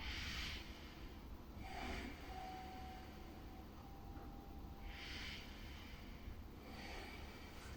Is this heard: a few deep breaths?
yes